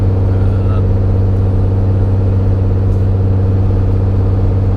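A car cruises along a quiet, well-lit road at night with little traffic, giving a steady, loud, low engine and road hum from inside the cabin with no break.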